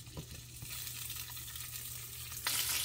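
Chicken sausages frying in hot oil in a pan give a steady close sizzle with a few soft clicks, growing louder and brighter near the end.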